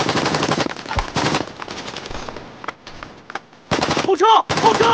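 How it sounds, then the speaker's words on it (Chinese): Sustained machine gun fire in an intense firefight, loud rapid bursts crackling in repeated volleys with brief gaps, and scattered shots in between. "这最少得1000多发子弹干进去了。"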